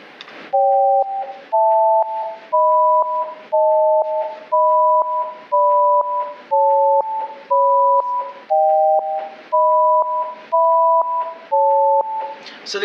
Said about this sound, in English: you had heard these phone tones and you were trying to convert them into numbers